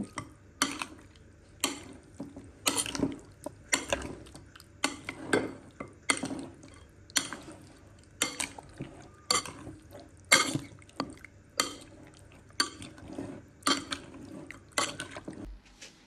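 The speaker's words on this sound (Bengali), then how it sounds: "চিকেন দিয়ে খুব ভালো করে হচ্ছে মিশিয়ে নেব" Chicken pieces are mixed with spices in a bowl, giving regular wet squelching and clinking strokes that repeat in a steady rhythm, close and fairly quiet.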